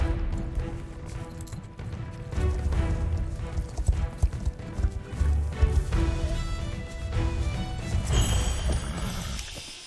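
Pony hooves galloping in a video game, a quick run of clip-clop beats over background game music and effects, moderately loud throughout.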